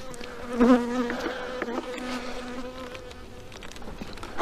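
Honeybees buzz close by at a hive in an apiary, overlapping drones, a few individual insects passing near with rising and falling tones against a softer background hum.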